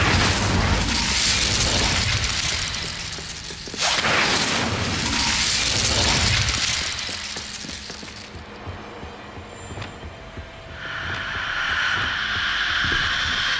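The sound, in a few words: Confringo and Incendio spell explosions in Hogwarts Legacy video game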